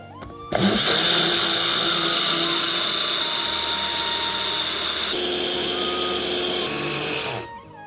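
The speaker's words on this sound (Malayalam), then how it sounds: "ജാറിലേക്ക് 1/2 കപ്പ് തണുത്ത വെള്ളം, 1/2 കപ്പ് പാൽപ്പൊടി, പൊടിച്ച പഞ്ചസാര, 40 ഗ്രാം ഹാപ്പിയുടെ പേരയ്ക്ക ഫ്ലേവർ പൗഡറും കൂടി ചേർത്ത് നന്നായി അടിച്ചെടുക്കാം" A blender jar whirs loudly as it mixes half a cup of cold water, half a cup of milk powder, powdered sugar and 40 grams of guava flavour powder, starting abruptly, running steadily for about seven seconds, then winding down.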